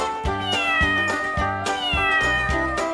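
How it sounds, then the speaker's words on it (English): A cat meows repeatedly, five or six drawn-out, whining calls in a steady rhythm, close and loud with no voices. "Cat,"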